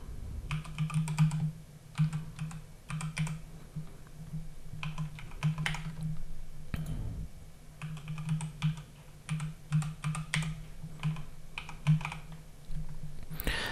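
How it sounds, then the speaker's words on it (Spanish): Password being typed on a computer keyboard, bursts of close, quick key clicks in irregular runs with short pauses, a steady low hum underneath, no talking. "Y aquí vamos a poner una contraseña."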